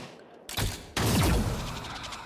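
Two sharp pistol shots in the video game XCOM Chimera Squad, the second louder and followed by a ringing, slowly fading tail.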